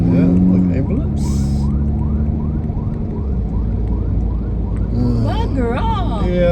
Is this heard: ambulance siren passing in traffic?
yes